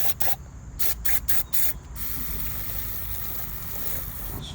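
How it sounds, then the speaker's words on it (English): Aerosol white lithium grease is sprayed into a Harbor Freight floor jack in several short, close hissing bursts that give way to a steadier, fainter hiss. "I'm gonna take some of this white lithium grease."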